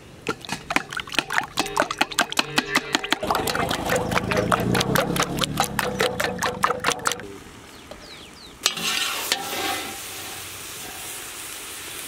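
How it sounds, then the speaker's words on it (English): Eggs whisked in a bowl while making American fried rice, a quick run of rhythmic clicking strokes for several seconds, then a softer stretch and a clatter near the end, with a low background hum throughout. "Whisk eggs."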